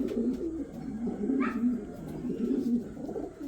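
A pigeon coos in a low, throaty, repeated rhythm close by, with a brief faint chirp from another bird midway through.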